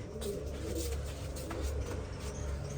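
A young domestic pigeon kept for pigeon-flying contests coos softly and repeatedly, a low, faint, rolling call with no voices.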